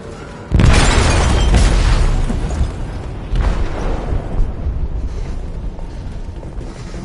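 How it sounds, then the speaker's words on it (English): A heavy explosive detonation in a ship's hold in the video game Detroit: Become Human, a loud booming burst followed by a sustained rumbling roar and a second surge of crashing, grinding debris. "They detonated an explosive in the hold."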